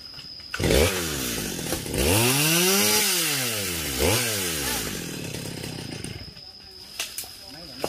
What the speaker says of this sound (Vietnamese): Máy cưa cắt nhỏ củi ra luôn.